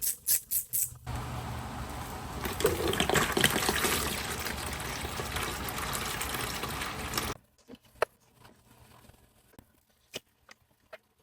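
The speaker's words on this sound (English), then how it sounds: "Now I'm gonna drain the coolant." Coolant from a crashed, salvaged Suzuki GSX-R 750 motorcycle pours in a steady close trickle for several seconds after some opening clicks, then tapers to scattered drips and knocks.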